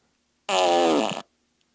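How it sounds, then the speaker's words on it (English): A fart machine toy lets out one loud, close, buzzy fart lasting under a second, alone against silence. "I brought my fart machine to Florida and had a lot of fun with that. There it is."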